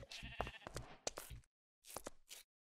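Sheep bleating in the video game Minecraft, several short wavering bleats in quick succession, close and clear, then a brief pause and two more calls, with no talk over them.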